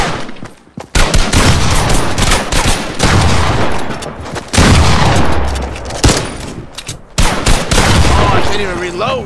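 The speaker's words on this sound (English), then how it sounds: "He's shooting through the wall." Heavy gunfire in Fortnite, loud repeated bursts of shots and booms filling most of the stretch, with brief gaps and shots coming through a wall.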